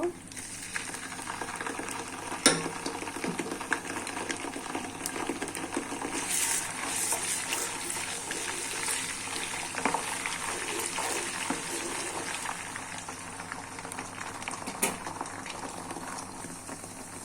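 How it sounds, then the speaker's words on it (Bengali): Garlic and ginger paste fries in a pan while mango pickle is being made, a steady bubbling sizzle close by with scattered stirring scrapes and clicks throughout. "দিয়ে আমি একটু ভাজা ভাজা করে নিব"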